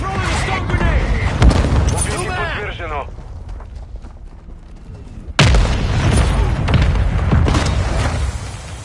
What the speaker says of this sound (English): Tossing a frag! Throwing a stone grenade!